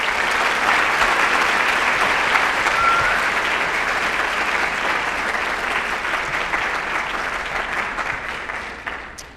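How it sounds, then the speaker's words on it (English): A crowd at a Hall of Fame induction ceremony gives sustained applause for inductees, many hands clapping loudly and evenly before tapering off at the end. "Please join me in a round of applause for those members"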